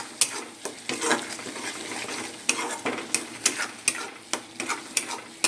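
Chicken with ground spices fries in a pan as a utensil stirs and scrapes, sharp clacks recurring roughly every half second over a bright sizzle, loud and close, with no talking.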